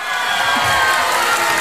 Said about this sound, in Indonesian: tepuk tangan lu buat Wahidnya mana